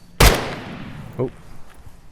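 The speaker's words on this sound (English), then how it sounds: "That was a warning shot." A single sharp, loud gunshot rings out in the VR shooter Geronimo and decays over about a second, followed by a second, smaller report and faint background noise.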